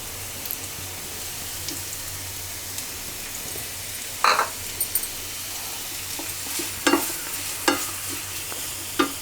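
Two large chopped onions dropped into hot oil in a pan, a steady close sizzle with a few sharp spoon scrapes and clicks as they are stirred, no voices.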